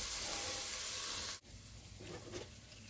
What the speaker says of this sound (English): the sausage usually has enough oil in it for me to brown it